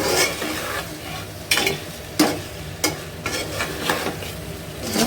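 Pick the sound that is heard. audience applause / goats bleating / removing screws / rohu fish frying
rohu fish frying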